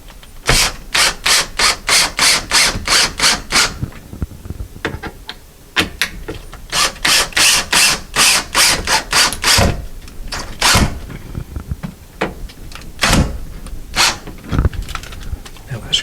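A power drill drives screws through a closet shelf support into wood, with repeated loud ratcheting bursts in quick trains, pauses between, then a few single short whirs.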